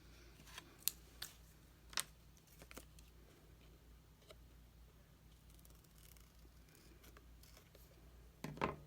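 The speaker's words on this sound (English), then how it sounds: "And then I'll snip off the extra." Scissors snip off excess tape in a quiet room, giving a few faint, close, crisp cuts scattered over several seconds.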